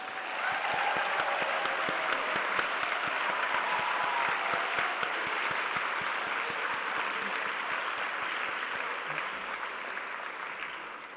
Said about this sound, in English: If you can stand up for an applause, please.